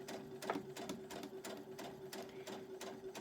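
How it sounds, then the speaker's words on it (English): Sewing machine stitching a patriotic quilt star block, a quiet, close, rapid rhythmic clatter of needle strokes at a slow steady pace. "and then start sewing"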